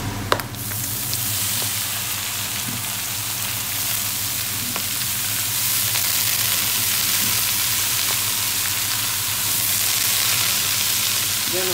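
Cabbage frying in a hot pan in a Surinamese kitchen, with a loud, steady hiss and crackle of sizzling that carries on without a break.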